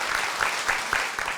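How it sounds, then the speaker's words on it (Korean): Brief clapping from an audience at a talk, a fairly faint patter of many hands with a few sharper claps standing out, lasting only a moment. "다 박수 치세요. 박수."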